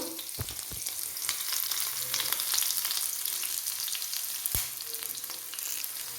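Onions sizzling and frying in hot oil, a steady crackling hiss with a few sharp clicks from stirring.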